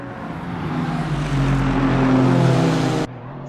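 GT3 race cars in the Yeongnam 400 round of the Hololive GT3 video game series hold a steady, droning engine whine for about three seconds before cutting off abruptly.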